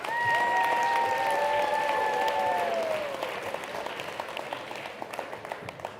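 An audience claps for a sponsoring company at a ski talk, a full round of applause that thins into scattered individual claps, with a few high whistles cutting through near the start.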